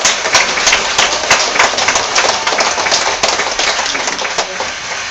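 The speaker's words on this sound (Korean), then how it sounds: "박수 한번 주세요." Dense, steady audience applause at a church lecture gathering, many hands clapping loudly and continuously for the whole stretch with no voices over it.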